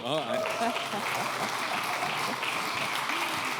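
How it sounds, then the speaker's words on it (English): Audience applause at a start-up award ceremony during a circular economy festival, steady and full throughout, with voices talking over the clapping. "Applause for Stefan."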